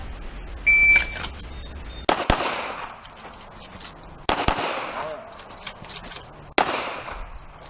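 Sharp gunshots ring out at a shooting-training range as shots are fired at targets, a few loud cracks in pairs spread across the clip amid outdoor background noise and a faint beep.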